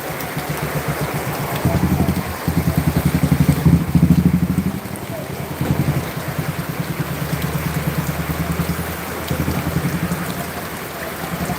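Heavy unseasonal rain pours over a vegetable market in Boisar, Palghar, a steady dense hiss with pattering drops and low rumbling throughout, while voices murmur nearby underneath.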